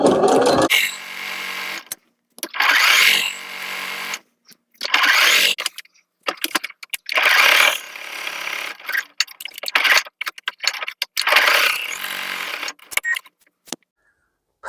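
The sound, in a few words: sewing machine sewing folded fabric apron straps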